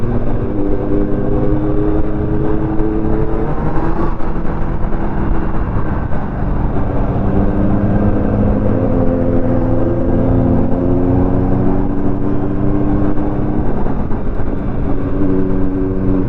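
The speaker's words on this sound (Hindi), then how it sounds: "अब ये जो एग्जॉस्ट आपको दिख रहा है ना, वो एग्जॉस्ट में साउंड बहुत ज़्यादा आता है अगर फुल सिस्टम होता है" A Triumph Daytona 675 and a Kawasaki Z900 motorcycle rumble steadily through their exhausts while riding, a loud, continuous engine drone with rising and falling tones, heavily mixed with wind noise.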